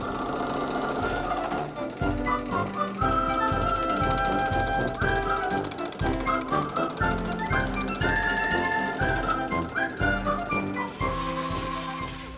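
A Dake power hammer forming a bead in sheet metal for an Oldsmobile fender hammers in a rapid, steady mechanical rhythm, loud and close, with brief pauses between bursts of pounding.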